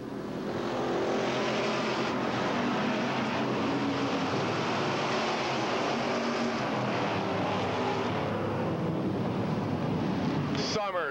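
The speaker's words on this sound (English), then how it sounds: "we have 3 abreast racing on the back chute" Race cars run three abreast down the back straight of a speedway, a dense continuous engine roar with wind buffeting, heard at steady loud level for the whole stretch.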